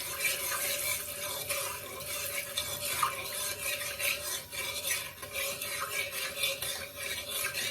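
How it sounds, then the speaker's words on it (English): Shrimp curry being stirred in a pot, a close, continuous rhythm of spoon scraping and clinking against metal over a soft bubbling wet background, no speech. "And give that a stir now."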